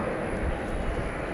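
An airliner lands at DFW Airport at night, heard as a brief, continuous broadband engine rumble at moderate distance with no clear rise or fall.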